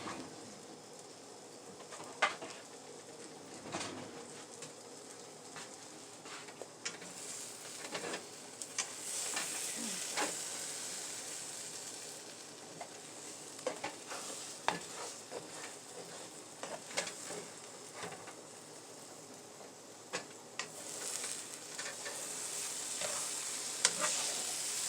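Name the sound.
French toast wrap cooking in a frying pan, sizzling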